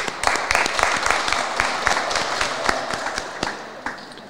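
Audience applause at a school Year 10 awards presentation for the winning house, with scattered clapping and sharp hand claps standing out over a steady hall-wide patter.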